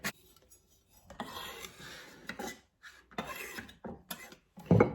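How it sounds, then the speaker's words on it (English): Nutmeg is grated by hand for turkey seasoning in a kitchen, giving soft irregular rasping strokes in short bursts with pauses between, fairly quiet and close. "so grate in some nutmeg"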